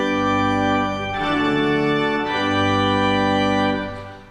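Pipe organ with all stops pulled out plays a loud, full hymn-like chord sequence, rich and booming with deep bass, holding long chords that swell and change before fading at the end.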